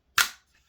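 A single unsuppressed shot from a Tokyo Marui LCP II airsoft pistol running low on gas, heard as one sharp, close pop that decays quickly into silence.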